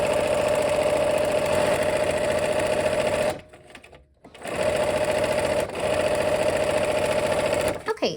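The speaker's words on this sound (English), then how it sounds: "let's go ahead and sew." A sewing machine stitches quilt pieces together in a steady, fast, close mechanical whir, pausing briefly once partway through before starting up again and running on.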